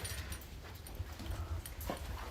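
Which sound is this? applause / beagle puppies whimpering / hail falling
beagle puppies whimpering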